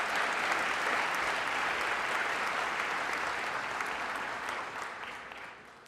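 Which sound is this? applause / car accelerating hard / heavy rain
applause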